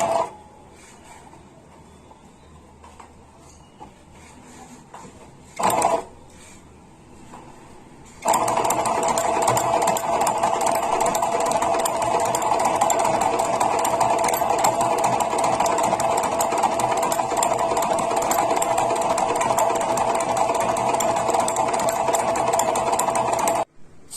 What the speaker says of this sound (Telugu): మనం మిషన్ని స్టార్ట్ చేయాలండి. ఈ విధంగా స్టార్ట్ చేసి స్లోగా స్టిచ్ చేయాలి.